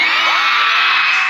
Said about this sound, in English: The crowd is deafening.